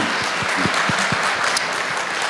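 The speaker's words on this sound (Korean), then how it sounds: "여러분 박수 한번 좀 보내시기" An audience at the opening ceremony of a behavioural development centre at a hospital for people with developmental disabilities gives a short burst of steady, moderately loud applause with distinct individual claps.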